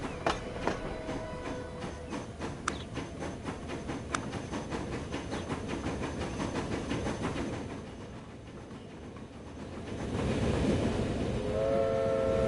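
Trains running on a rail network in the video game Transport Fever 2 on PS5, a steady rumble with rhythmic clicking and faint horn-like tones, continuous and moderately loud without talk.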